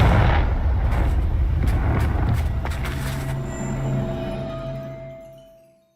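A Confringo blasting spell cast in the game Hogwarts Legacy bursts out as a loud, rumbling explosive blast with crackling bursts, sustained for several seconds before tailing off into a low hum.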